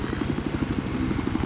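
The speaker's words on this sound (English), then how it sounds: "When you're flying a chopper, yeah." Helicopter flying in the video game Battlefield 4, a steady rapid rotor chop throbbing continuously and loudly with no speech.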